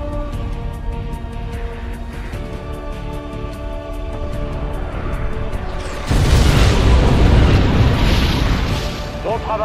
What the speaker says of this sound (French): Je vais détruire les structures qui restent.